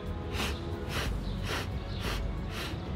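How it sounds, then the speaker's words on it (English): Six quick, sharp inhales through the nose, each a short breathy rush about half a second apart, steady and close, done as part of a white crane kung fu breathing exercise with no talking over them. "Breathe in six times."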